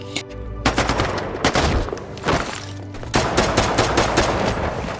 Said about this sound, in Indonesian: Kalah jumlah orang dalam adu tembak membuat kelompok Merriman kewalahan menghadapi Nick dan anggotanya